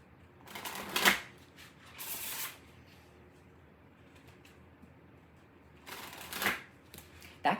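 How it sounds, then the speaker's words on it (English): Oracle cards shuffled in a quiet room, a few soft riffling bursts near the start and again toward the end, separated by stretches of near silence. "So let's look at your oracle cards."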